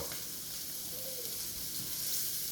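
A tomahawk ribeye steak sears in a hot pan, giving a steady, close sizzle that holds evenly throughout with no voices.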